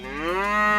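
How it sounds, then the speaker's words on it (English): A single Aberdeen Angus cross beef cow moos on a Minnesota ranch, a close, loud, rising low call of under a second, heard alone. "there's 50 Aberdeen Angus cross cattle"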